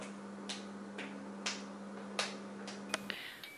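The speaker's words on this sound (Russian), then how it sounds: "Хлопает малыш в ладоши." A toddler clapping hands, a handful of sharp, light slaps spaced irregularly about half a second apart, fairly faint against a quiet room with a steady low hum.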